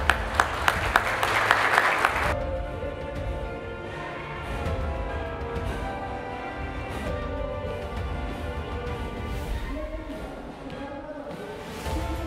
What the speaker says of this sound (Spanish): un aplauso por favor y mucho agradecimiento